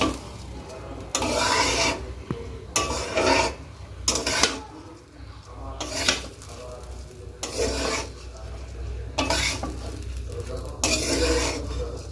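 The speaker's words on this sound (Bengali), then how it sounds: "ভাজা হয়ে গেছে ডাল চাল দুটোই" Dal and rice for meat bhuna khichuri are fried in a pot, with a spoon scraping and stirring in repeated strokes over a soft sizzle, loud and close with brief pauses between stirs.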